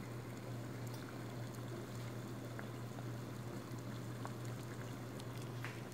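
Sago tapioca pearls cooking in a pot of boiling water, giving a steady, close bubbling and simmering with a low hum throughout.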